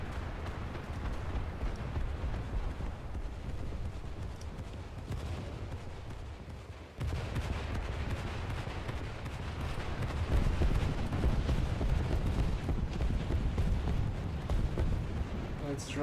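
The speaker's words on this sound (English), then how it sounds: "Sounds like there's something big on it with backwards cannons." Heavy booming tank cannon and artillery fire in the video game War Thunder rolls continuously at close range, dense low rumbles and blasts with a brief drop in the middle before the barrage resumes.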